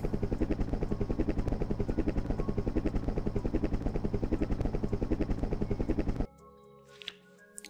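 Helicopter in the retro video game Captain Gysi in Galaxis Futura: a loud, steady rapid rotor chop with a thick engine drone for about six seconds, then cutting off abruptly to quiet game sounds.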